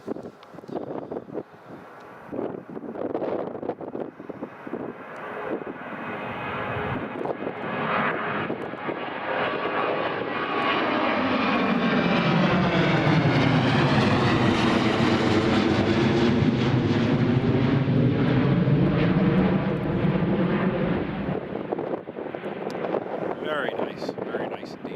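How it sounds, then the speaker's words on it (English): A fixed-wing airliner rolls down runway 25 at Newcastle Airport and takes off, its engine roar swelling to a loud, sustained rushing drone that peaks and then slowly fades, with wind buffeting the microphone. "V1, rotate, V2, positive rate, gear up."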